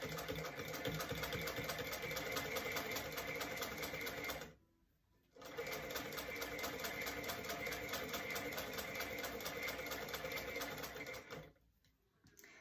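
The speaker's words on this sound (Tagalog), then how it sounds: "They call it a vintage machine. Vintage sewing machine." A vintage 1859 hand-cranked sewing machine runs in two long stretches of steady, rapid clattering stitching. A brief pause separates them and it stops near the end, heard close and fairly quiet.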